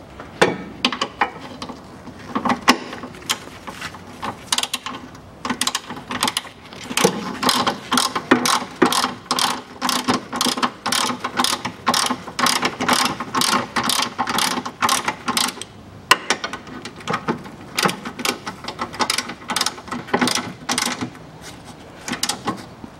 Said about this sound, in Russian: Болты подтягиваем, но не перетягиваем, чтобы не посрывать резьбы, не поотрывать шляпки.